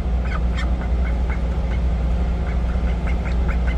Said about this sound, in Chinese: 鸭子，你真的是咬人哦